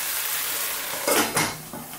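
Bok choy and mushrooms simmering in a covered pan, releasing liquid as they boil away, with a steady bubbling sizzle and a couple of brief clinks of a lid or utensil near the end.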